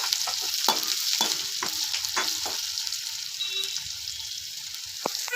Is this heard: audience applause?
no